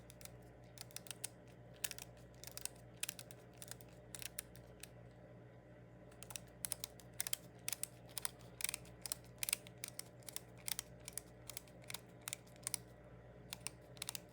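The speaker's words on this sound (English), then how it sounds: "you can hear those audible clicks as this goes around" Crisp rapid clicks from a detent pin as an XS adjustable rear sight on a S&W revolver is turned, dozens of small sharp ticks in uneven runs, close and quiet over a faint steady hum.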